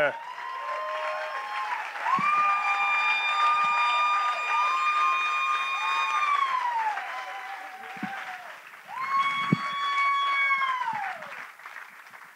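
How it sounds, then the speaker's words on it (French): Audience applause and cheers at a closing ceremony, steady and broad through most of the stretch, with loud sustained, sliding tonal sounds riding over the crowd noise. "Une chaude main d'applaudissements, s'il vous plaît, pour deux anciens enfants héros, Laurence et Florence"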